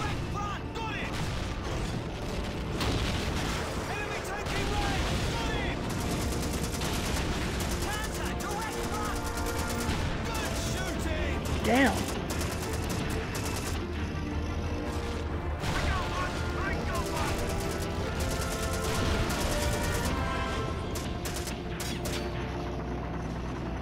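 Gunfire in the World War II shooter Call of Duty 2: dense, continuous volleys of rifle and machine-gun shots with crashing impacts, loud and close, running steadily without a break.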